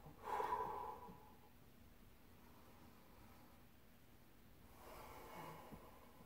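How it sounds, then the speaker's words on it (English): Deep breathing during an upper-body rotation stretch: a strong breath near the start, then a quieter, softer exhale after a pause, close and with no talk. "Take a big breath, exhale as you open up."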